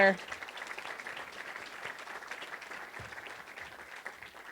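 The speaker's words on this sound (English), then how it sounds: "Let's give another round of applause to all these board members" Audience applause at an annual meeting and awards luncheon, a moderate, steady clapping from a room full of people that follows a brief sharp onset and continues evenly to the end.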